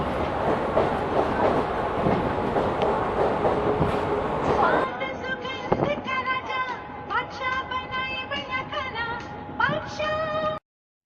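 A Mumbai local passenger train rumbles and clatters steadily along the rails, loud and close, then the noise thins and ringing tonal sounds rise over the rolling carriage noise.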